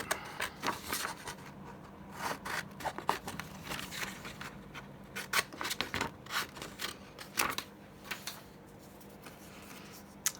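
Scissors cut a paper envelope shape with a quick, irregular series of close, crisp snips and paper rustles against a quiet background, and no one talks.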